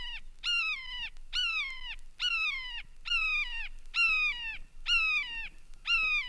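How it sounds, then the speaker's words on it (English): A red-shouldered hawk gives a rapid series of loud, clear, descending screaming cries, about eight in steady succession, close and alone with no talk. "Oh, it's the red-shouldered hawk."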